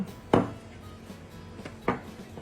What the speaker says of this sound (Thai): รีดแป้ง รีดตรงปลายแป้งนะคะ ให้บาง